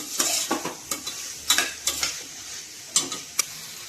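Finely chopped ivy gourd (tondli) pieces frying in a pan for Maharashtrian masale bhat, heard as sharp scattered scraping stirs and clinks against the pan over a quiet sizzle, close up and without talk.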